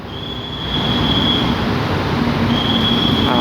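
Suburban train 341 rolls past behind Alstom locomotive no. 4222, a loud steady rumble of wheels on rail that swells in after a quieter start, with a thin high wheel squeal coming and going.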